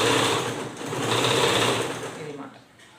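A sewing machine runs continuously, stitching along the folded edge of frock fabric, then winds down near the end. The whirring motor is close and fairly loud.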